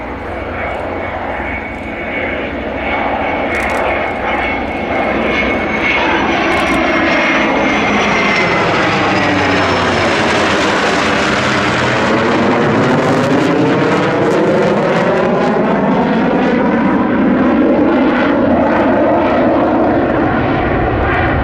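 A restored F4U-4 Corsair propeller engine drones loudly throughout, its pitch sweeping as it passes close by, with faint voices underneath.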